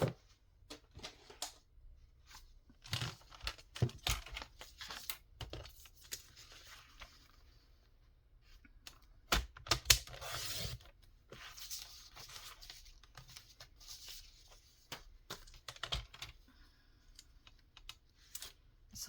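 Paper being cut with scissors for a journal pocket, close, quiet irregular snips and rustling handling noises over about twenty seconds, no talking.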